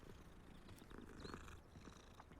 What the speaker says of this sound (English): gotta pet the kitty cat